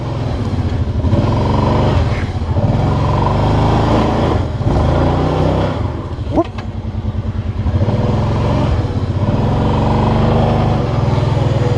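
Kawasaki Brute Force 750 ATV engine revving hard on a mountain trail, a loud, continuous throaty roar with rising and falling throttle surges and a brief sharp spike midway, close to the listener.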